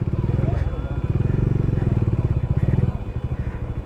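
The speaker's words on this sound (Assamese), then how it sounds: "আমি এতিয়া আমাৰ বাইক এটা এটা পার্ক কৰিব লাগিব" A motorcycle engine idles with a throbbing, rapid low putter throughout, close and fairly loud, easing slightly near the end as it is parked at a viewpoint in Shillong.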